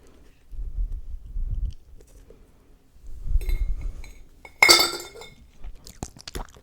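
Ice cubes rattle and clink against a glass jar in a couple of bursts, with a sharp bright clatter near the middle and low rumbling knocks between.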